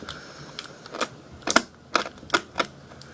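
A knife cutting on a table while preparing hookah, a series of sharp, close clicks and taps in an uneven rhythm, about half a dozen distinct hits against a quiet background.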